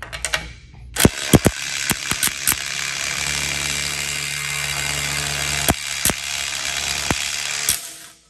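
Quarter-inch Mac Tools impact gun hammering loudly during a torque test, running in a steady buzzing burst punctuated by sharp repeated impact clacks, alone with no talk.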